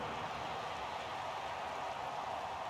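Steady rain falling during an American football game in Madden NFL 23, a constant soft hiss of even texture throughout with no distinct drops or voices.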